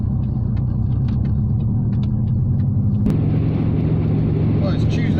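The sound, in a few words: Talbot Tagora car driving past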